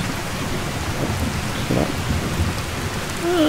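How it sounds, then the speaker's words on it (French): Steady rain falls with a low rumble of thunder in Skyrim VR, a video game, a continuous wash of noise; one word is spoken briefly. "je pourrais pas complètement supprimer la pluie, je pense"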